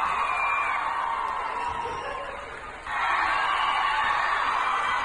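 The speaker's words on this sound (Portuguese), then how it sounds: "Muitos aplausos." A crowd at Paula Fernandes' stage show cheers and applauds for Neymar as a broad, steady roar that dips briefly and then swells back louder.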